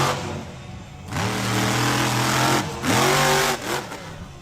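Monster truck Bad Decision at a Miami, Oklahoma show, its engine revving hard in repeated rising and falling surges over crowd and arena noise, loud and close with steady roar between pulls.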